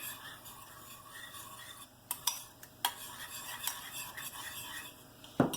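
Brussels sprouts with shallots and whole-grain mustard sauce are stirred in a bowl: quiet scraping and soft swishing with a few sharp clinks of utensil against the bowl, close by.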